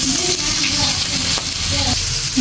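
Fish sizzling steadily in hot oil in a village kitchen pan while being stirred, a dense continuous crackle with soft clinks of the spatula, close and loud with no talk.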